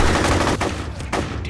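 Rapid gunfire in the shooter game F.E.A.R., a loud dense burst of automatic shots that dips briefly and then resumes in a second close, sustained volley.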